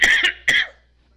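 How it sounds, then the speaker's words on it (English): Two sharp, loud coughs in quick succession, close by, followed by silence. "I might cancel the stream if I'm going to cough so much."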